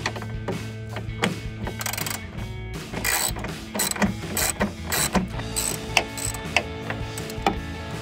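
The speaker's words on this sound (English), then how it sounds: "You're gonna need a 8mm socket, your ratchet, and then some sort of an extension." Ratchet with an 8mm socket and extension backing out a bolt on a 2018-2020 Ford F-150 grille, giving a rapid series of close clicking ratchet strokes with small metallic knocks in between.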